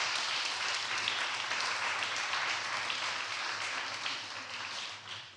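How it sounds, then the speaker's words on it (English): An audience claps steadily for the Newark Public Library at a school event where students receive library cards. The round of applause is moderately loud and sustained, then tapers off at the end. "Let's give another round of applause to the Newark Public Library."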